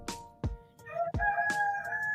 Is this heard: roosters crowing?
yes